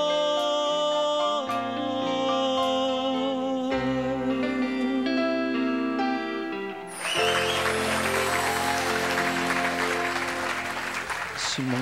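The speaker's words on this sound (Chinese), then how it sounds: "你会唱到让哲伟老师拍手哎" A judge claps during a live singing contest on a Taiwanese variety show, applause building over loud backing music and a sustained crowd roar in the second half.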